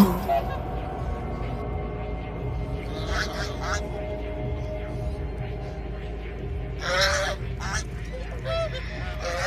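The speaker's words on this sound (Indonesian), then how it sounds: "terdengar suara angsa" Goose honks ring out from a short distance, a cluster of calls midway and a louder burst near the end, over a steady low background rumble.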